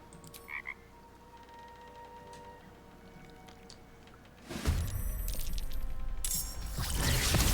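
A couple of brief frog croaks in Baldur's Gate 3 sound early, then a loud rushing, splashing wash of noise takes over for the rest.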